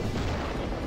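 The Giga Destroyer attack detonates in the Digimon Adventure video game, giving a dense, rumbling, booming explosion that fills the whole short moment at moderate loudness with no speech.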